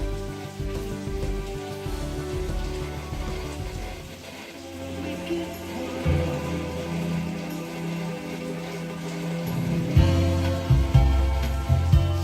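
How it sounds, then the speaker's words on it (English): Heavy rain drums steadily on a garage roof during a rainstorm, a dense, constant patter heard from inside with a low rumble and some thuds mixed in, and no talking. "That's the rain coming down on the roof and a little thunder in the distance."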